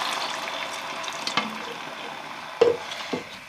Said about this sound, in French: on va couvrir avec de l'eau, tout simplement